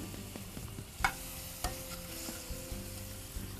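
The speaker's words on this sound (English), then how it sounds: "We're going to start off with shrimp in olive oil." Shrimp sizzle in olive oil in a pan, a steady soft frying hiss with a few sharp clicks and pops standing out, close and moderately quiet with no talking.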